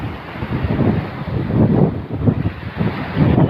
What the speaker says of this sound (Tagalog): ngayon lumalaki na naman ang alon